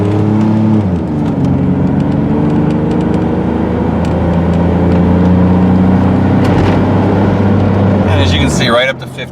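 A 2000 Chevrolet Blazer four-door 4x4 accelerates hard from inside the cabin, its engine note climbing steadily through the gears for several seconds, loud and close, before easing off near the end.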